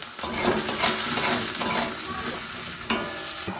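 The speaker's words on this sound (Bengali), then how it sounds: "এবার মাছ ভাজার তেলের মধ্যে এই বেগুনগুলো ভেজে নেব" Brinjal pieces fry in oil previously used for frying fish, a steady close crackling sizzle with occasional utensil scrapes and stirring clinks, no talking.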